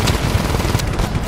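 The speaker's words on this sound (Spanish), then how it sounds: "Necesitamos tiros rápidos y continuos." Rapid, continuous bursts of automatic gunfire in the video game Just Cause 3, loud and dense with overlapping shots and no pause across a short stretch.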